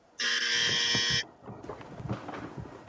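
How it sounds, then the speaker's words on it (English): A buzzer sound effect blares once during a tier-list livestream, a loud flat electronic buzz lasting about a second, followed by quieter background clatter and room noise. "I'll do the buzzer for Jason"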